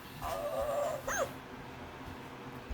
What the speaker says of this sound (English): Are you making noise, dog?